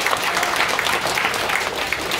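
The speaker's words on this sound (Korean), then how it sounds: "박수 한번 해주십시오." Brief burst of audience applause at a Korean Christian council emergency assembly and fasting prayer meeting, a dense, even patter of many hands clapping throughout.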